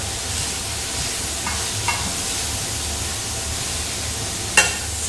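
Fall greens sizzle steadily in a hot pan as they are tossed and wilt, a constant frying hiss with a couple of faint clinks and one brief sharp knock near the end.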